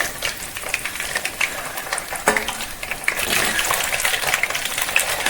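Oil crackles and spatters in a hot pan while curry leaves and eggs fry, a steady dense sizzle with scattered sharp pops that grows louder toward the end.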